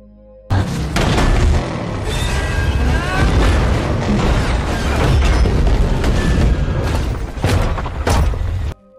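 A film scene in which trucks overturn and explode at an oil tank, a loud sustained roaring blast with rumbling booms and crashing debris throughout, no talk.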